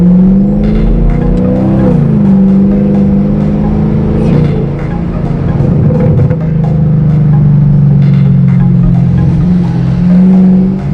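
A loud 2020 Chevy Camaro engine intake drones and revs up, its pitch climbing and dipping through gear changes, close by with a heavy low rumble.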